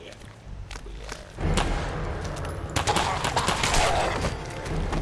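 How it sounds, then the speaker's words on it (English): Video game gunfight with rapid gunshots and laser blasts, dense overlapping bursts and thuds building into continuous fire after a quieter start, loud and busy throughout. "gunshots and you're hearing laser blasts"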